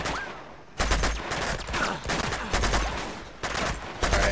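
Tank cannon fire in Uncharted 2: Among Thieves during an urban warfare battle: four heavy, booming blasts about a second apart, with crackling gunfire and debris rattling between them.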